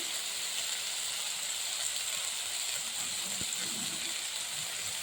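Pumpkin and eggplant frying in a pan with amaranth greens, a steady broad hiss of sizzling oil that stays even and close throughout, with a faint stir near the end.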